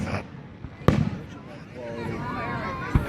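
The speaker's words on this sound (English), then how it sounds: "People shooting fireworks behind us." Fireworks exploding behind a group of people at night, with a sharp near bang followed by crackling and distant pops while people talk over it.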